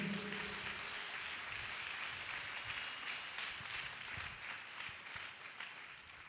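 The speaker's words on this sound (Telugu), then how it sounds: "చప్పట్లు కొట్టండి గట్టిగా దేవునికి." A church congregation claps steadily for God during a sermon, a dense continuous wash of many hands that holds at an even level across the whole stretch, with no speech.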